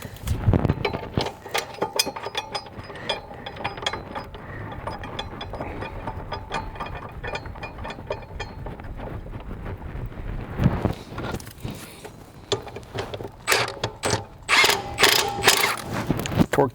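A torque wrench tightens the blade bolt on a Briggs & Stratton 550EX walk-behind mower, giving a steady run of close, crisp mechanical ratcheting clicks that rises into louder, denser clicking near the end.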